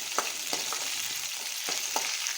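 Curry leaves and green chillies sautéing in hot oil for upma, a steady close sizzle with a few sharp crackles and spoon scrapes as they are stirred.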